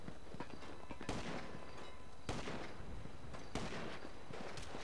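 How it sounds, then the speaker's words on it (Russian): Gunfire in the GTA Online video game: three separate shots spaced about a second apart, each a sharp crack with a short decaying tail, heard quietly over low background game noise. "один выстрел есть"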